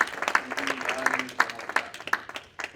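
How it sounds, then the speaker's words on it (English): Audience at a May 2013 talk event claps for volunteers: a few scattered, sharp claps spread unevenly across the moment, mixed in with voices talking. "let's give a big round of applause to all the volunteers, right from registration desk to dance, everything."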